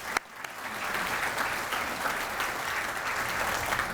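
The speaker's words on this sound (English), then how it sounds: "So let's give them a round of applause." An audience at an executive breakfast for the Light the Night campaign breaks into a steady round of applause, dense clapping from a sizable crowd that builds after a sharp first clap and holds evenly, with no talking over it.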